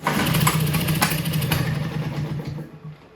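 A 1965 Toro Flymo engine, freed from a seizure, sputters and runs roughly with the choke on. The motor drones steadily and loudly up close, then fades toward the end.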